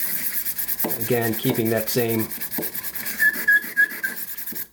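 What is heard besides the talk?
whittling knife sharpened on a diamond stone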